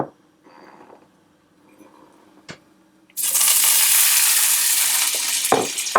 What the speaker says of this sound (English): I'm just going to cook these until they start to brown.